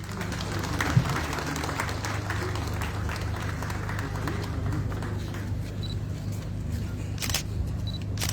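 A faint, continuous patter of applause rolls through a formal inauguration ceremony for an ad-hoc tribunal in Kaloum, welcoming a UN official, with steady low hum beneath and a few sharp clicks near the end.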